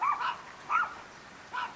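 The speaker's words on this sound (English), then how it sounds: "You hear the chihuahuas barking in the background." Small chihuahuas bark in the distance, three faint separate yips spaced out over a quiet outdoor background with no talking.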